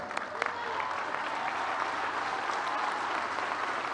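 Steady applause fills the room as ten municipal presidents from eastern Estado de México stand at a public event in Tlalnepantla, with some voices mixed into the clapping.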